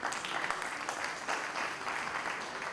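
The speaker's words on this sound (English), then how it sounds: "Another round of applause, please." Steady applause from a crowd, dense clapping that holds at an even level for a few seconds without pause.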